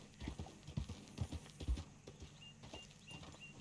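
Hooves of a ridden horse in Red Dead Redemption 2 clop in a quick, even rhythm, close but soft, easing slightly toward the end.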